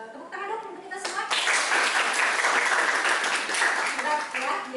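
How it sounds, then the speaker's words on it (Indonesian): Schoolchildren in a classroom break into loud, sustained applause after a brief opening of voices, dense rapid clapping filling the room at close range. "tepuk tangan dong untuk kita semua"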